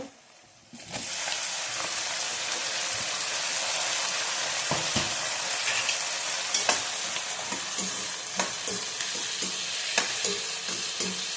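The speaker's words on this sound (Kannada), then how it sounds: "ಟೊಮೊಟೊ ಒಂದೆರಡು ನಿಮಿಷ ಫ್ರೈ ಆಗಬೇಕು" Tomatoes sizzle and fry in a pan with onions for a paneer and peas pulao, a steady loud hiss of frying interrupted by intermittent clinks and scrapes of stirring.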